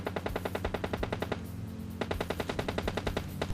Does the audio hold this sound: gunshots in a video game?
yes